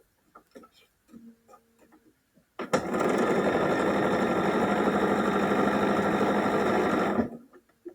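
A sewing machine stitches quilt block pieces in one continuous, steady run of about four and a half seconds, close and fairly loud, with quiet handling clicks before and after.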